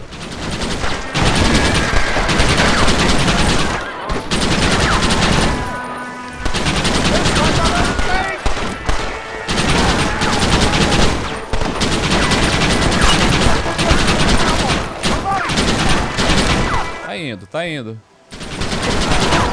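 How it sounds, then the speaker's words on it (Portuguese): Gunfire in the Western video game Red Dead Redemption: dense, loud bursts of rapid shots in long volleys separated by brief pauses, with a player talking briefly over the action. "Vê que é um tiro pra matar os caras"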